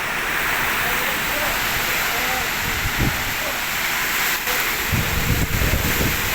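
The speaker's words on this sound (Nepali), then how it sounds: "ओ है हावा" Strong storm wind in Butwal, Nepal, roars as a loud, constant broadband rush, with heavier gusts buffeting the microphone now and then.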